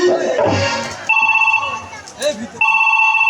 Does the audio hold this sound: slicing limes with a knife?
no